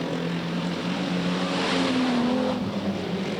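Super sedan race cars roar around the dirt oval at Yandina Speedway, a loud continuous engine drone from several cars, with one rising pitch as a car passes close, and no voices.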